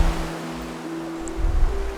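Steady ocean surf washes over a vast waterscape in the video game Honkai Star Rail, a broad rushing roar with a low tonal hum underneath that swells slightly toward the end.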